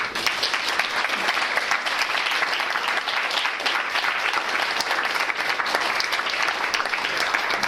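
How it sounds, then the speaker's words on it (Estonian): A large audience at a science café talk gives sustained, dense applause, loud and even throughout with no individual claps standing out and no speech over it. "Teeme nüüd ühe suure aplausi."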